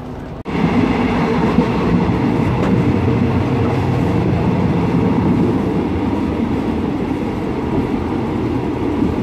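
A Thai overnight train from Surat Thani to Bangkok rumbles steadily along the tracks, a loud continuous roar with faint clattering of wheels, heard from inside or close by.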